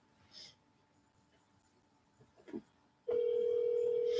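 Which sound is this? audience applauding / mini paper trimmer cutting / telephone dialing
telephone dialing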